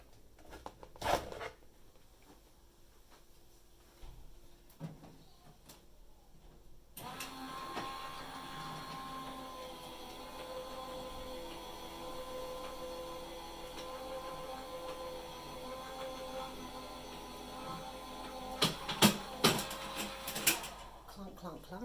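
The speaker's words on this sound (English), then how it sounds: "I'm going to run this through my die cutting machine" A Go Press die cutting machine with an embossing folder runs with a steady mechanical whir and hum for about twelve seconds, followed by a few clunks and handling knocks, while a person talks now and then.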